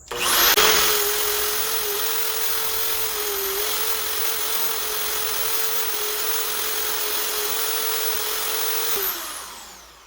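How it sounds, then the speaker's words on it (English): An oscillating spindle sander shaping Baltic birch plywood runs loud and alone, with a sharp start, a steady high whine holding for about nine seconds, then spinning down. "Try not to stand in the way of the sander, but this is how the spindle works. It spins, it moves up and down, but it's loud"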